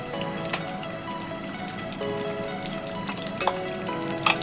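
Ground roasted spice mix goes into a hot pan of chicken curry, giving a steady close frying sizzle with light clinks of a utensil against the pan and no talking.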